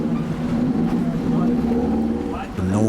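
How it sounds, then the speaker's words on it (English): Dive boat engines rev at an ocean dive site where sharks gather for feeding, a steady loud motor drone with a low rumble that rises and shifts near the end. "At the dive site, the captain revs the boat's engines."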